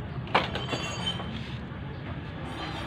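A small Thomas toy train rattles along its track with light clicks and a short squeal, a continuous close mechanical clatter.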